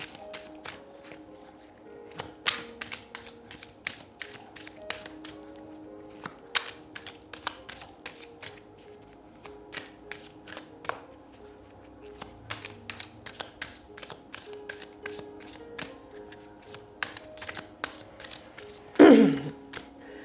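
Oracle cards are shuffled and drawn by hand in a quiet room, with soft repeated flicks and taps throughout, a faint hum beneath, and a brief louder rustle near the end.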